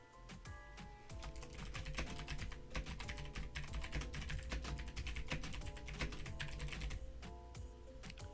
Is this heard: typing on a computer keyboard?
yes